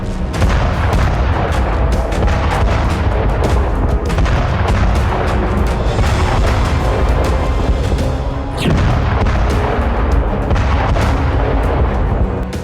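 Artillery fire from Russian attacks in a Ukrainian border area rumbles as dense, continuous booms and gunfire, loud and unbroken for the whole stretch apart from a brief dip midway.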